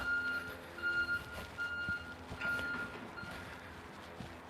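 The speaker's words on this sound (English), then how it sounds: "Oh, that's a Redwood City Parks car. City of Redwood City. Oh, it's loud." A Redwood City Parks vehicle emits loud reversing beeps, four evenly spaced high tones about a second apart, over outdoor traffic rumble, with no speech.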